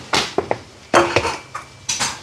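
A spoon stirs chicken curry in a metal pot, knocking against the sides in short sharp clinks and clanks, about half a dozen close hits spaced unevenly.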